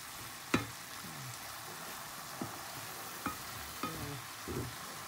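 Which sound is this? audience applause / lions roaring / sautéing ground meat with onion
sautéing ground meat with onion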